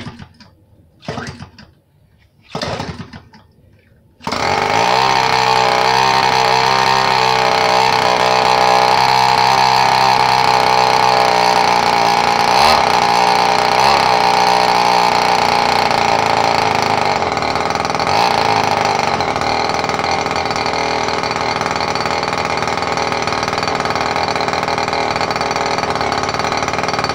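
An Evolution 58cc gas model aircraft engine with RCEXL ignition spins a 22x10 propeller. A few quick pull attempts come first, then it starts and holds a loud, steady, buzzing roar up close.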